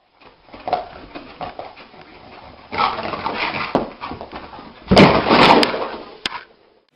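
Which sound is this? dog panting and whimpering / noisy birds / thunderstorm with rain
dog panting and whimpering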